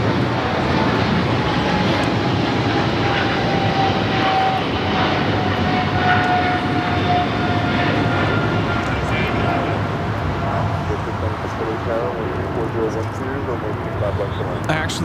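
Airliner engines roar steadily at LAX, a loud, sustained jet rumble running throughout while voices talk over it.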